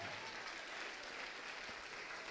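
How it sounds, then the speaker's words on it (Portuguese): Audience applauding steadily through a church service in a Portuguese-speaking congregation, a dense, even wash of clapping at low level throughout with no voice standing out. "vamos aplaudir mais"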